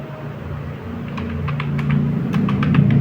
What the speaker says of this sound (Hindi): कीबोर्ड थोड़ा ढंग से काम नहीं कर रहा है